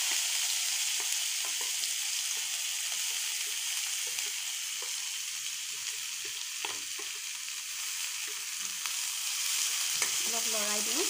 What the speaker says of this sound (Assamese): এয়া মই তেলত পিঁয়াজখিনি দি দিলোঁ।